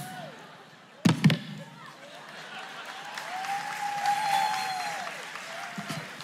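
A church congregation during a Palm Sunday sermon breaks into scattered clapping and murmuring that swells after a sharp thump, staying fairly faint and distant with voices mixed in.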